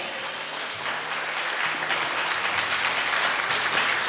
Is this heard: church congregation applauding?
yes